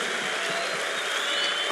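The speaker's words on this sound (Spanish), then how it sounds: "¿Ese es el mejor aplauso que tienes?" Church conference audience clapping in sustained, dense applause, steady and fairly loud throughout with no one speaking over it.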